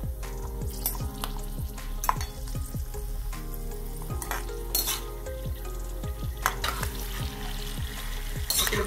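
Ten or twelve almonds and cashews deep-frying in oil for upvas chivda, a constant close sizzle broken by frequent sharp spattering pops and occasional stirring clinks, nobody speaking.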